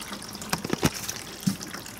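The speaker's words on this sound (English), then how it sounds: "Oh, not hot, but warm water from 1919." Warm water runs and splashes from a 1919 old engine, an uneven trickle with a few louder gurgles and drips, close by and without speech.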